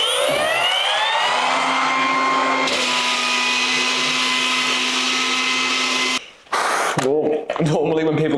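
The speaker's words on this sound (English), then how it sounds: "we're just going to give the ceiling a very light sand in preparation to paint it" A drywall sander fitted with 120 grit paper lightly sanding a ceiling before painting, a loud, steady motor whine with a rising pitch at start-up and a drone that holds, then briefly cuts out and restarts near the end.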